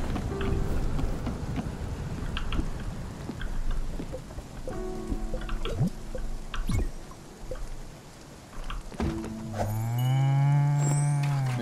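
Cow mooing in the video game Spiritfarer, several drawn-out tonal moos, the last long and loud, over a soft background patter like rain.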